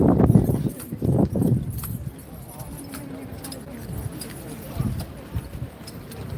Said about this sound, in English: Beautiful horse, folks,